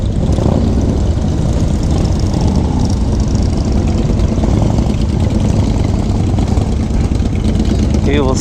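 A custom Yamaha motorcycle runs under heavy, constant roaring wind noise on a group ride in Sacramento, California. The engine is a loud, continuous drone with no clear breaks.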